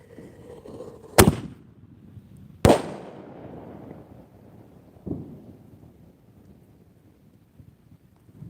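A firework launched from a tube after its fuse is lit gives two sharp bangs about a second and a half apart, then a softer distant pop, with wind noise rumbling underneath.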